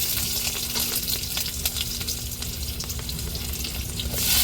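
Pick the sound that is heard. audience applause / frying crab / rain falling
frying crab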